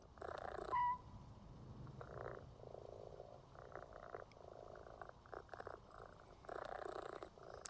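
Soft, steady purring from house cats runs through the background as a low continuous rumble, with a few louder bursts on top and no talking.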